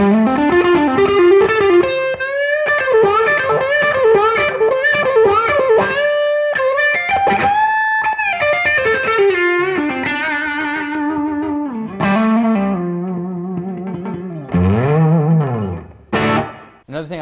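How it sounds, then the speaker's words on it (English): Electric guitar lead played through a Cusack Screamer Fuzz pedal, a thick distorted tone with sustained bending notes and vibrato-laden phrases, loud and continuous, ending in a few choppy stabs. "I love the Cusack Screamer Fuzz for that"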